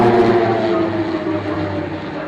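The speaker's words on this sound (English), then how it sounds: "flying a Swiss-made aircraft" A Swiss-made aircraft in a formation aerobatics display at an airshow gives a steady, loud engine roar that holds throughout the brief moment, fading only slightly.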